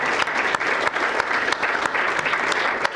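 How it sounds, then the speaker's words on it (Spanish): An audience applauds Capitaria at a 2025 Uruguay market-outlook event, with dense, steady clapping that fills the room at an even level throughout, and no voices standing out above it. "me gustaría un aplauso para Capitaria en este caso"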